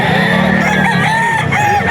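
A gamecock rooster crows loudly and close by among the birds for sale at a seller's spot in Bocaue, Bulacan, one drawn-out cock-a-doodle-doo with other fowl and background noise behind it.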